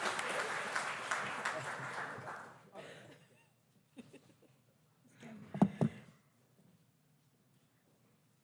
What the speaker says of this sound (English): give a round of applause to Margaret Kisko